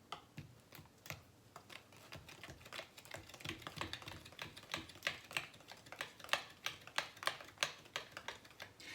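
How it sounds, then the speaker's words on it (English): A whisk clicks rapidly against a bowl while flour, salt and baking soda are mixed for banana bread, a close, quiet run of sharp ticking strokes that quickens into a steady rhythm. "So I'm just gonna give this a little whisk all together"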